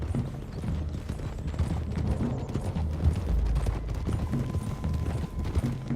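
Horses gallop in Red Dead Redemption 2, a steady rumbling clatter of hooves mixed with game ambience and mechanical rattles, moderately loud and continuous throughout.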